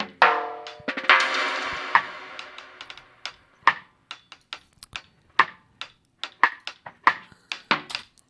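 Sharp snare drum hits from a sample in music production software, a dry burst followed by a quick series of short, crisp strikes in an uneven rhythm, close and clear with no talking.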